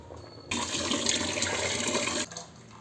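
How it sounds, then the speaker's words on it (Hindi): A steady rush of water runs for about two seconds, starting and stopping abruptly, close and fairly loud with no voices, as rice boils in water. "चावल उबल रहे हैं"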